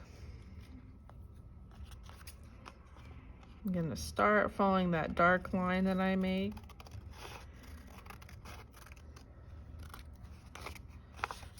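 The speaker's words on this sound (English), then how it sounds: "I'm gonna cut off these parts of the eye" Crisp snipping of scissors through paper in short bursts, with a person speaking briefly partway through.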